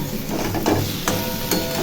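Ground cumin, salt, ginger paste and chili powder stirred in an oiled pan: a brief, steady fry hiss with a few scraping pushes of the spoon.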